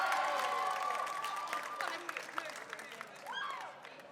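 An audience applauds at a lively event, its clapping and crowd noise mixed with voices and a shout, fading as the burst trails off.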